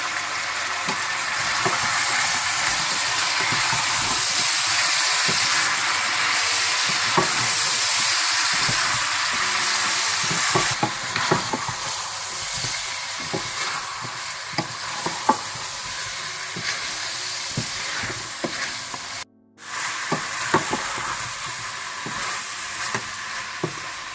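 Steady sizzling of goat meat frying in a pan with coriander powder, cumin powder, salt and garlic, with scraping stirring strokes throughout and a brief pause near the end.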